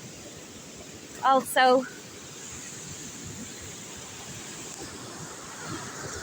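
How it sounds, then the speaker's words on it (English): Floodwater after a couple of hours of rain rushes across a roadway toward a river, a steady broadband wash and hiss with a brief spoken word early on. "The water washing down the right of way"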